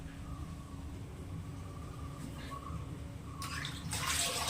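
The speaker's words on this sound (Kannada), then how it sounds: "ಸೊಪ್ಪನ್ನು ತೊಳೆದು ಪಲ್ಯ ಮಾಡೋಣ ಅಂತೇಳಿ ಈಗ ಸೊಪ್ಪನ್ನು ನೆನೆಸಿದ್ದೀನಿ. ಬನ್ನಿ ಇವಾಗ ಅದನ್ನು ತೊಳೆಯೋಣ." Soaked leafy greens are swished and rinsed in a container of water for a stir-fry, a continuous soft splashing that grows brisker near the end, with no talk.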